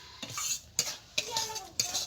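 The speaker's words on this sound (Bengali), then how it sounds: "আমি এই ঘির সঙ্গে এই সুজিটাকে ভালো করে ভেজে নেব। ততক্ষণ এই অনবরত নাড়তে হবে" Semolina frying in ghee is stirred continuously in a pan, with a spoon scraping and knocking against the metal in quick, regular strokes over a light sizzle, close and without talk.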